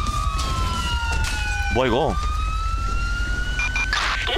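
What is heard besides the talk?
ambulance siren in the video game GTA V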